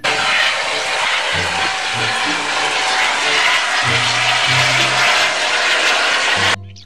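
A toy helicopter gives off a loud, continuous electronic whirring rotor sound for about six seconds, with a faint tonal hum underneath, before it cuts off abruptly.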